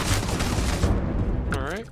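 Rapid bursts of gunfire in the space game Starfield, dense and loud for about a second, then a ringing electronic weapon sound rises before fading out.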